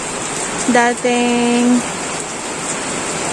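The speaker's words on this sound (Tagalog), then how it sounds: "Medyo bumagal na ng kauntian yung ulan." Heavy rain from Typhoon Ulysses pours as a constant loud hiss while a voice speaks briefly over it.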